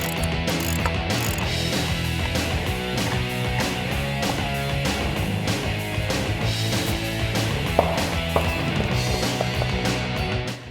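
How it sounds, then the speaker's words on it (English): Ratchet wrench with a 13mm socket loosening the bolts on a 1997-2006 Jeep Wrangler TJ spare tire carrier, giving a continuous fast metallic clicking close up, with no talk. "Now we can remove the 6 bolts that are holding on the spare tire carrier with a 13mm socket."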